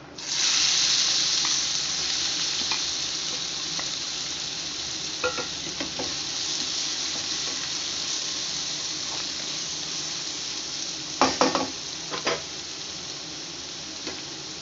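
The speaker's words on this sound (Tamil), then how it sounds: "இப்போ வெங்காயம் வெந்துக்கிட்டு இருக்கு" Onions sizzling in hot oil in a pan, a constant close frying hiss running throughout, with scattered stirring clicks and a few sharper scrapes near the end.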